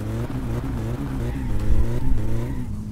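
Car engine in My Summer Car, revving hard near the 8000 rpm mark: a loud, steady, buzzing engine drone climbs and surges in pitch with a strained, pushing quality, heard close without talk.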